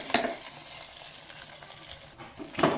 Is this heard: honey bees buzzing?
no